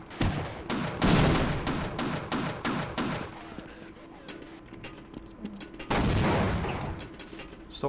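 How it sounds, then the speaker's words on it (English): Grenade explosions in the Half-Life video game: a rapid run of sharp bursts in the first few seconds, then a quieter stretch and one more loud blast near the end. "Stop throwing grenades."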